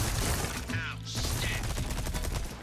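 Gunshots in the video game Resident Evil 4 Remake, fired at pirates, crack in quick succession beneath game noise and voices, with a few sharp reports over a busy, dense background.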